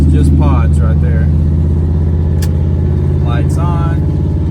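A truck's engine drones loudly and steadily as it drives, a constant low rumble with someone talking over it intermittently.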